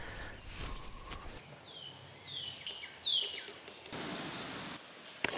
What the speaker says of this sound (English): The birds are singing. Listen.